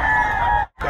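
An eight-month-old Hatch Gray gamefowl stag crows loudly and close, one sustained call cut off abruptly before a brief fresh onset.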